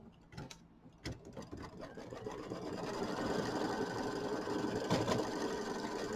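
A sewing machine runs steadily to stitch appliqué shapes down onto a mini quilt, with a few clicks at the start before a continuous, fairly quiet mechanical whir.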